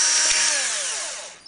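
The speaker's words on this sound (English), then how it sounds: "You're going to start drilling straight in." A power drill whirs close up as it bores into a plastic container for an ant waterer, a loud high spinning whine that slowly winds down and fades toward the end.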